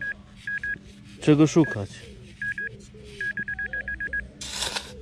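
A metal detector sweeping a playground sandpit emits short, high electronic beeps, some single and some in quick runs of five or six, with a person talking over the middle of the sequence and a brief burst of rustling noise at the end.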